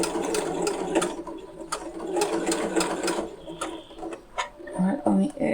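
A domestic sewing machine stitches a faux leather pouch in quick rhythmic bursts of mechanical clatter, stopping and starting, close up, with someone talking over parts of it.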